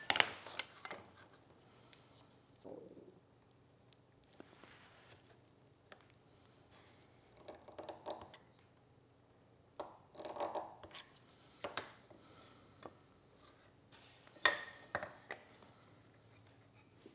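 A woodworking marking gauge scores a line around a wooden piece for drawer dividers. It makes faint, intermittent scraping strokes at close range, separated by quiet pauses, in a calm workshop.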